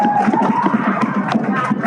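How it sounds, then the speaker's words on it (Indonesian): A crowd at a girls' quiz contest applauds team Rebuan with quick, rhythmic clapping and some cheering that sound fairly close and lively throughout. "Ya, tepuk tangan untuk rebuan."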